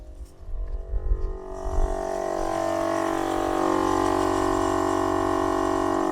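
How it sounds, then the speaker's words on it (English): Steady mechanical drone of an air compressor running for a DIY 4-way tire deflate/inflate system, loud and close, with some clatter at the start before settling into a continuous hum. "make sure that compressor doesn't overheat"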